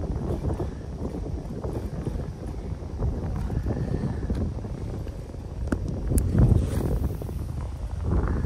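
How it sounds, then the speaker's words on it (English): Wind gusts buffet the microphone on a windy morning beside the Lehigh River, a rough, steady rushing that swells and fades, heard close with no talk. "Kind of windy morning."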